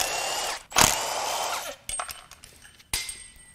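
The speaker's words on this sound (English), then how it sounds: "Next, we'll unbolt the fuel rail." Power tool briefly running while unbolting the fuel rail on a BMW/Mini Cooper B38 1.5L three-cylinder engine during teardown; a loud whirring burst, then several short clicks and shorter tool bursts, close up with no talk.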